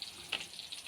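Ghee sizzling in a hot pan while cooking masoor dal, a soft continuous frying hiss with a few brighter crackles and pops.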